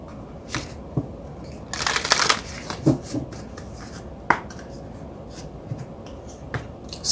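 Moonology oracle cards are handled and shuffled by hand, a few quick riffling bursts and light flicks and taps, close and fairly quiet, with no talk.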